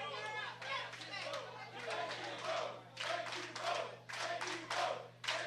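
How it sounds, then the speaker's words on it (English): A wrestling crowd chants in rhythmic bursts with clapping and cheering between them, fairly distant and steady across the clip, with a commentator's voice speaking over it. "A thank you both chant from this crowd."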